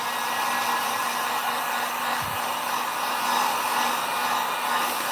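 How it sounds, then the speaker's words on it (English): A heat gun blows steadily on a stenciled wood sign, a loud, constant airy roar with a faint tonal hum, continuing unbroken for several seconds with no voices. "All right, let's get the heat gun on that."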